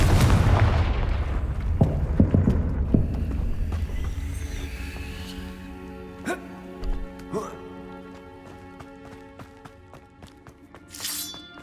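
Confringo spell explosion in Hogwarts Legacy video game, a heavy booming blast at the start followed by scattered sharp cracks and debris clatter fading out, with a voice speaking over it.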